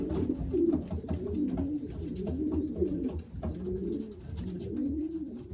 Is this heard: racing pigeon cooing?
yes